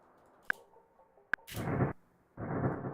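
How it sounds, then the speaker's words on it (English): Two sharp clicks are followed by two rumbling bursts of a thunder sound effect, each about half a second long, mid-loud and alone with no talk. "That was a thunder sound"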